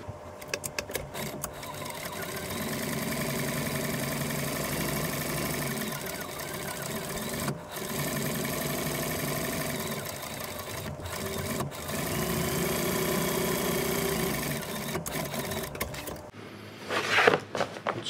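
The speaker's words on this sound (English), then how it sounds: "So now we'll sew that up on the machine right quick." A sewing machine stitches around the edge of a leather rope bag in a steady, continuous mechanical whir with brief pauses, close and alone, ending with a short rustle of handling.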